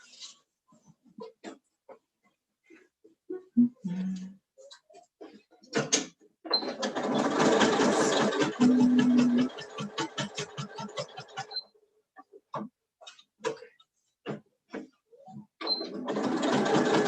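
A sewing machine back stitches fabric for a table runner, its rapid mechanical stitching running in close bursts with a sustained run in the middle and short pauses between.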